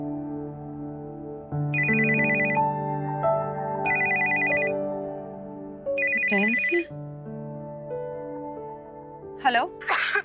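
A phone ringtone rings in three bursts of electronic melody over a sustained tone, close and clear, with brief breathy vocal sounds between the rings.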